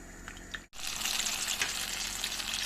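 After a brief pause, a loud, steady sizzle of eggplant frying in hot oil hisses continuously, close up and without talking.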